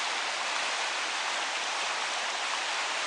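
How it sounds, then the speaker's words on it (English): A rushing river runs beneath a bridge on the Appalachian Trail near a campsite, giving a dense, steady roar of water at constant loudness with no voices. "Sound of this rushing river."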